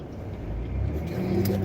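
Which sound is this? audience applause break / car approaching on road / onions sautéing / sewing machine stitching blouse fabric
car approaching on road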